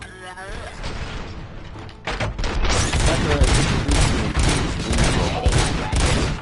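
Dense, sustained automatic gunfire in the video game RoboCop: Rogue City erupts loudly after a brief voice at the start and rattles on in heavy overlapping bursts to the end.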